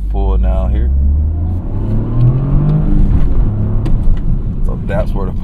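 A Toyota GR Corolla under a full-throttle pull, its engine note climbing steadily as the revs rise, loud and close inside the cabin. A person talks briefly at the start and again near the end.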